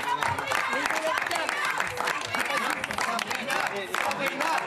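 Dense applause and cheering from Rassemblement National party activists at a French election-night press appearance, loud and continuous, with a few voices rising above the clapping.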